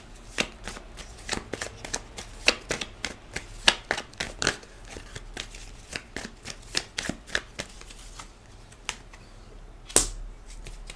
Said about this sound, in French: Je vais recouvrir quelques cartes.